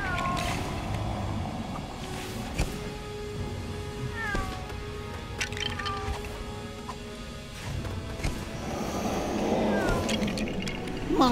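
Cartoonish cat meows in the LEGO Harry Potter video game, several repeated mews and caterwauls scattered over game music and ambient effects, fairly close and clear, with no talk.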